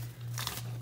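A bag of white chocolate morsels crinkles as they are poured out for cake mix cookies, a short close rustle that peaks briefly in the middle and is heard alone.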